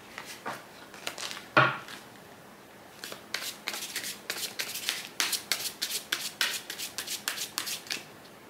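Tarot and Lenormand cards being shuffled by hand: close, crisp papery slaps and flutters, sparse at first with one sharp knock, then settling into a steady run of quick rhythmic shuffle strokes.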